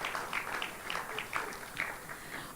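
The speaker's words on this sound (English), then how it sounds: "Clap, clap, clap," Audience clapping at an annual entrepreneurs conference and trade expo, a fairly faint but steady patter of many hands in a quick, roughly rhythmic beat, heard from across the hall.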